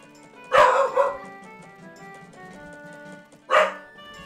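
A dog barks twice close up, a short double bark then a single bark a few seconds later, over quiet tonal game music.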